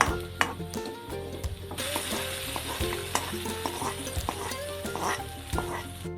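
Mustard seeds fry in hot oil with a continuous sizzle and frequent sharp pops and crackles, while a utensil clinks against the pan.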